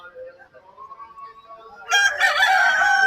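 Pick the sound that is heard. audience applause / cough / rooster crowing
rooster crowing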